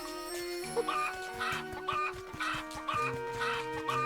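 Cuckoo chickens in the video game Zelda: Echoes of Wisdom cluck in short repeated bursts at a steady rhythm over a bright, tonal game music loop.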